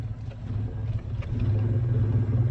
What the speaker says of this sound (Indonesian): Mesin